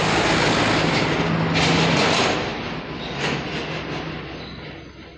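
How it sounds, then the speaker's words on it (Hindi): A tractor engine runs nearby as a loud, broad, steady rumble that swells and then fades slightly over several seconds, with no voices heard. "आज बहुत ज़्यादा ट्रैक्टर चल रहा है, आवाज़ बहुत ज़्यादा डिस्टर्ब भी हो रहा है"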